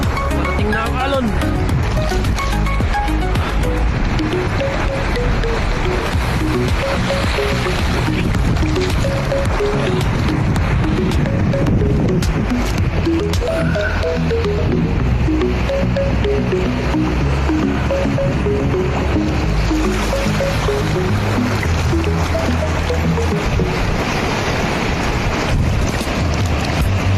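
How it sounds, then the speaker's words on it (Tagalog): Ocean waves and gusting wind surround a boat at sea, a constant rushing wash with wind buffeting the microphone, while people talk over it throughout. "Parating na ang alon."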